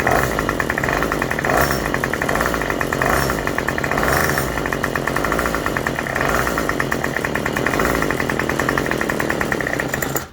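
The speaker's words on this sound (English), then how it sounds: "Let's try it out to see if it works." Small two-stroke weedeater engine running after a carburetor repair, a loud, close, buzzing drone with slight rhythmic surging and roughness, steady throughout with no talking.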